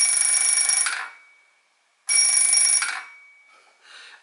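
An Express Lifts floor position panel bell rings like an alarm in two loud, close bursts of rapid shrill ringing, each about a second long, with a fainter ringing tail at the end and no talking.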